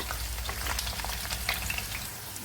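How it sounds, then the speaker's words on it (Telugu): Green chilies frying in hot oil for a crab curry, a steady dense sizzle with soft crackles and occasional stirring clatter throughout, close and continuous with no talk. "ఆయిల్ ఈటెక్కింది పచ్చిమిరపకాయలు వేసుకున్నాం చూడండి ఫ్రెండ్స్ పచ్చిమిరపకాయలు కూడా వేసుకుంటున్నాం"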